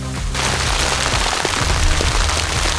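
Hail or sleet pours down steadily in the Wyoming spring mountains, a dense, even hiss of icy pellets striking surfaces close by, with no talking.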